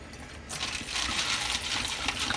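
A high-pressure tap gushes water into a canteen: a quiet moment, then a sudden loud, hissing rush of water that fills in abruptly and keeps pouring steadily to the end.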